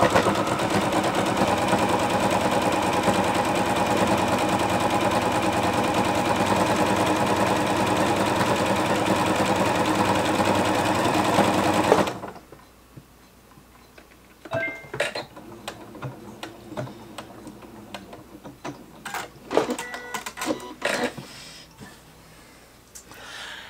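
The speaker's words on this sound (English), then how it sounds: "let's do a quick zigzag stitch" Sewing machine running a steady, loud zigzag stitch across a quilted tote bag for about twelve seconds, then stopping, followed by quieter fabric handling and small clicks.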